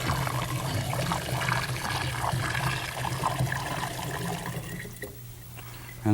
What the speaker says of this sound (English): We just take this and And we'll just pour pour it it in? right into our carboy.